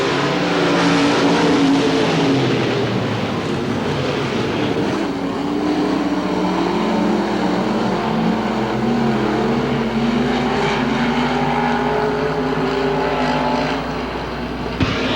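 Race cars roar steadily past at Hamilton County Speedway during the 1993 Winston 50, a loud continuous engine drone that fills the whole stretch with no break and no talking.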